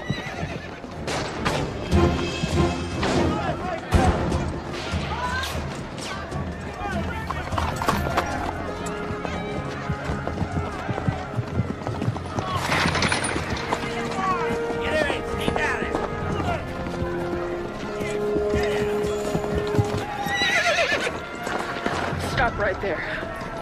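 Horses gallop with rapid clip-clopping hooves and repeated whinnies in a Western film scene, mixed with voices and background sound throughout.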